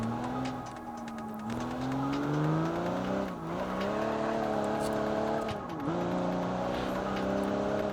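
A custom car in a video game pulls away and accelerates, its engine note climbing steadily through the gears with brief dips at shifts, loud and close throughout with no talk over it.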